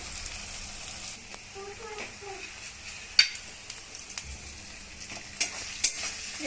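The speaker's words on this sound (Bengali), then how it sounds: "একটু ভাজা হোক পেঁয়াজটা।" Onions browning in hot oil in a home kitchen, a soft continuous sizzle with occasional stirring clicks and scrapes, fairly close.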